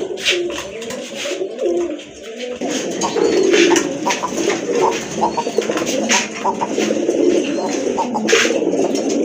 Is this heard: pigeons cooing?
yes